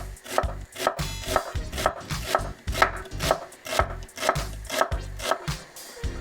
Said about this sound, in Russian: Репчатый лук нарезаем полукольцами.